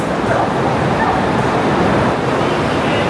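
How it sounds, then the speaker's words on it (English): Several dogs in a busy dog-friendly area of Singapore, among them a poodle wearing shoes, bark and yip amid constant loud outdoor noise that washes like surf, with no clear speech. "Oh, there's a poodle with shoes on. So many dogs."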